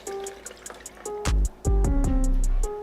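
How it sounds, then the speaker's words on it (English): A cup of water pours into a carambola juice mixture with simple syrup, starting as scattered drips and dribbles, then two loud gushing pours with rising gurgles, close up and without talk. "we're also going to add 1 cup of water"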